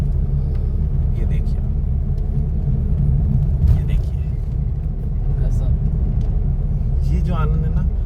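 Car driving through the winding hairpin bends of the Desuri ghat section road in India, a steady loud low rumble of engine and road noise filling the whole clip, with someone talking over it.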